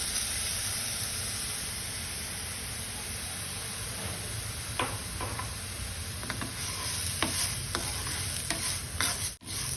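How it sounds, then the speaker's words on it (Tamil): Green gram, washed beforehand, dry-roasting in a hot pan for a sweet laddu, with a steady dry hiss and a series of light scraping stirs growing more frequent toward the end; no talking. "நம்ம இப்போ கழுவி வச்சுருக்கிற இந்த பச்சை பயிரை ட்ரை ரோஸ்ட் பண்ணி எடுத்துக்கலாம்"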